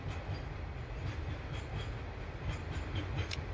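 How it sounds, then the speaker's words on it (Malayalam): A goods train loaded with petrol rumbles past at steady volume, a continuous low roar of rolling wagons with faint rhythmic wheel clatter. "ഗുഡ്സ് ട്രെയിൻ ഇങ്ങനെ പെട്രോൾ ഓയിലാണ് തോന്നുന്നു."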